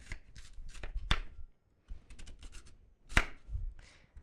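A sturdy chef's knife slices food into planks and sticks on a cutting board, giving a few sharp, close chops and taps separated by short pauses, with no talking.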